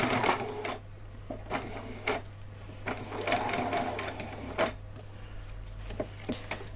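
A sewing machine stitches Halloween dress fabric in short bursts, running in quick rattling runs with brief pauses between them, close and clear with no talking.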